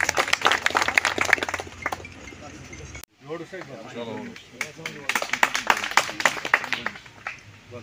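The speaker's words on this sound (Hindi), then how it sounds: "जोरदार तालियों से इनका भी स्वागत करें।" A crowd claps at a political party gathering in Hindi-speaking company. Bursts of sharp claps come in two waves, mixed with shouting voices and someone speaking in between.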